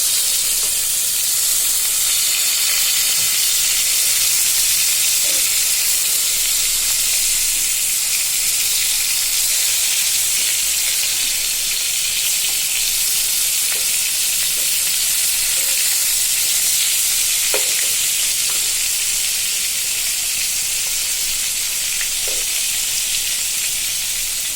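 Koi fish fry in a pan for a Bengali tomato koi bhuna, sizzling and hissing loudly and steadily without a break, with faint clinks now and then and no talk.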